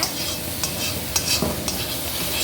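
Okra roasting on high flame in a pan, a steady dense sizzle with a few sharp spatula scrapes and clicks scattered through it, close and fairly loud, with no voices.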